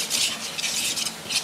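Lumpia dough is stirred in a bowl, giving soft continuous scraping and sticky rubbing strokes, close and moderately loud over a brief moment, with no voice.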